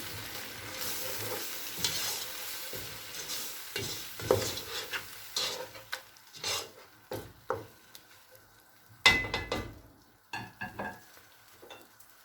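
Spices and salt are stirred in a sizzling pot, with scraping strokes of a spoon and clinks against the side over a low background fry. The strokes come close and irregular.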